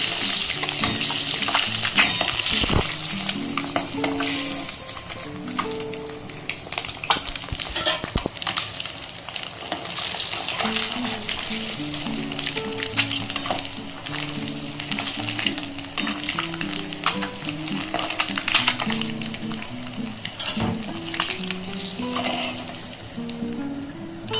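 Eggs fry in hot oil in a pan for a Bengali egg and cauliflower curry, giving a steady, close, loud sizzle with scattered spatters and scrapes throughout.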